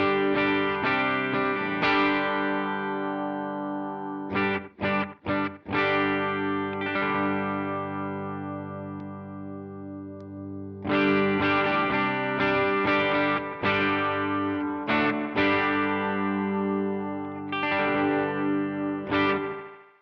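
An electric guitar played through an Earthquaker Devices Rainbow Machine Version 1 pedal with a distorted, chorused sound, sustained chords with a few quick muted stops, loud and steady with no voices.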